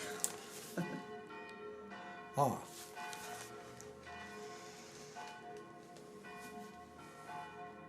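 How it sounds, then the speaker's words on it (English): Church bells ring steadily with a sustained, shimmering tone, their strikes blending into a continuous peal, with a few brief knocks and faint voices in the background. "You hear bells?"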